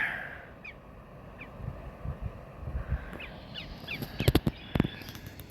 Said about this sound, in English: And you got a red-winged blackbird.